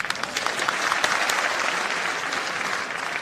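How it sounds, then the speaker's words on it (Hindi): An audience claps for Rajasthan's education minister during a live speech, producing dense, steady applause from a large crowd that carries through the whole stretch without letting up. "ये ट्रांसफरों से भी ज्यादा तालियां बजी है साहब"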